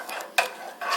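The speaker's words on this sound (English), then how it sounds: "2 to 3 tablespoons of sofrito paste. And let that get all mixed in the oil." Sofrito paste being stirred into hot oil for chicken Kreyole, with soft scraping and faint sizzle punctuated by a couple of brief utensil knocks against the pan, close and fairly quiet.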